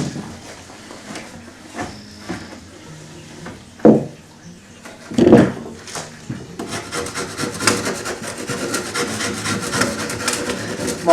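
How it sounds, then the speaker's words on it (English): A hand rasp files the contoured edge of wood decking, heard first as a couple of isolated scrapes and then as a fast run of rough, rhythmic rasping strokes close by. "we're going to take the rasp and we're just going to clean it up."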